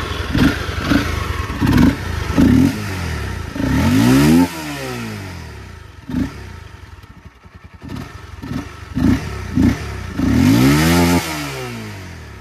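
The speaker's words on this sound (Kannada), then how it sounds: "ಇದು ಗಾಡಿ ಸೌಂಡು." Honda CBR 250R motorcycle engine revving in repeated sharp bursts, with pitch sweeping up and falling back between throttle blips and a rougher idle in the gaps, close and loud.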